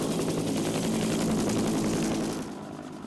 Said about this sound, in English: Helicopters were used during the event to drop 5 tons of corn.